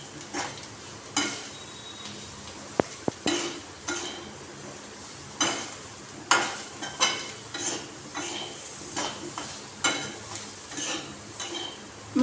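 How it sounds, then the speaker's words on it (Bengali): Spoon scraping and clinking in a pan as spices are stirred into a potato and soya chunk curry, a series of short separate strokes over a faint sizzle with no talking. "মশলাটা মিশিয়ে নেব।"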